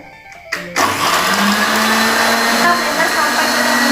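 An electric blender switches on with a sharp click and whirs up to a loud, steady roar as it purees baby food with water, the motor pitch settling and holding close and continuous.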